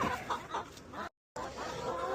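Hens cluck softly in a coop at night as they settle for bed, a few short muffled clucks over a steady background hiss, broken by a brief gap of silence.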